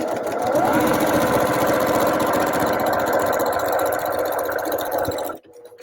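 Sewing machine stitching quilt pieces of half square triangles, a loud, close, rapid continuous whirring rattle of the needle running for about five seconds before stopping abruptly.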